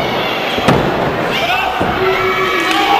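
A wrestler is scoop slammed onto the ring mat during a CCW Evolution tag bout, a single heavy thud landing amid steady crowd noise and a commentator's voice.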